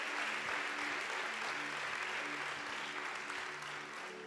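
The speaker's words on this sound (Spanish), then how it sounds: "recibamos con un fuerte aplauso a nuestros jóvenes" A church audience gives the young people a strong round of applause, a dense, even wash of many hands clapping that holds steady for several seconds with no speech over it.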